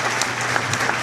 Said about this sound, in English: So please give them a nice big round of applause as well.